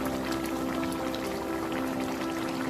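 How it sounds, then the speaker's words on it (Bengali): A pot of bottle gourd leaf and stem curry, with water just added, bubbles and boils in a dense, constant, fairly loud wash that runs through the whole stretch. "জল দিয়ে এটাকে আমি এবার ফুটতে দেবো"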